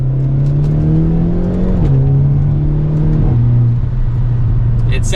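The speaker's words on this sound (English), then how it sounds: "We got some pops in that exhaust" A 2023 Hyundai Elantra N in N mode revs loudly close by, engine pitch climbing and dropping in steps, with sharp exhaust pops crackling near the end.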